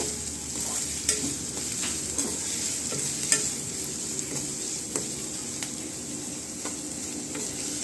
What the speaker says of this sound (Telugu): ఈక్వల్గా కలుపుతూ వేపించుకోవాలి ఇవన్నీ కలిపేటట్టు నెమ్మదిగా కలుపుతూ వేపించుకోవాలి